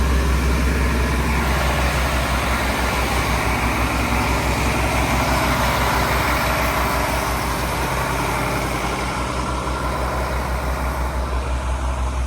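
A fire truck's heavy diesel engine idles close by, a loud, unbroken rumble that holds steady for the whole stretch with no voices over it.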